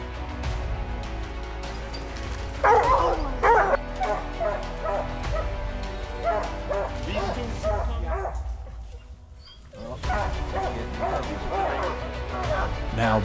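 Hunting dogs bay and yip excitedly at a bear treed in the woods, a dense chorus of barks and whines carrying on continuously at moderate distance while people talk over it.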